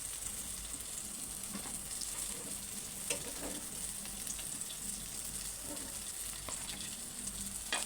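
Mutton keema balls deep-fry in hot oil with a steady, fairly faint hiss and sizzle throughout, plus a few soft clicks and bubbles close by.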